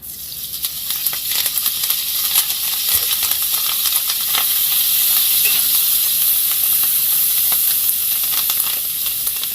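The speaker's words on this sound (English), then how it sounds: "I'm just going to throw my kale in there." Kale tossed into a hot pan sizzles steadily for the whole stretch, a bright, continuous hiss with small crackles and no talking.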